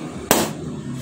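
An orange or yellow party balloon bursts with one sharp, loud pop that decays quickly into a quiet room.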